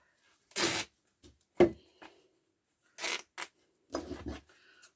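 An old, thin cotton t-shirt being ripped by hand into strips, several short separate bursts of tearing fabric close by, each lasting a fraction of a second, with quiet pauses between them.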